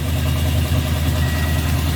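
A Luhrs 28 boat's engine idles steadily and smoothly, a continuous low rumble with no gurgling, running on its own without voices.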